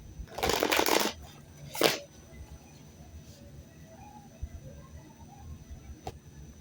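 A deck of reading cards being shuffled close up, a brief crisp riffle burst followed by a second short flutter, then a quiet room with faint background noise.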